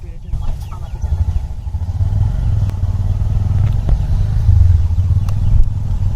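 Motorcycle engine starting up after repairs, a close, loud low rumble that catches and settles into a steady idle with some mechanical clatter.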